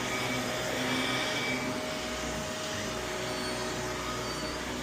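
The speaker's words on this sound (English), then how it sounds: "Vacuum cleaner going over here" A vacuum cleaner runs continuously at steady volume, a dense broadband whir with a faint tonal hum, close by and uninterrupted with no talk over it.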